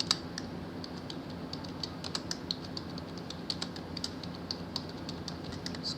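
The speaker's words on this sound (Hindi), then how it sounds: "हम एक प्रोग्राम टाइप कर रहे हैं जो क्या करेगा, प्रिंट करेगा कुछ" A program being typed on a computer keyboard, rapid uneven clicking of keys, close and moderately loud, with a few brief pauses between bursts and no talking.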